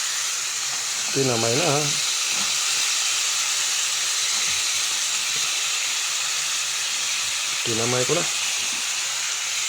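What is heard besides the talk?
crabs sizzling in a pan with salt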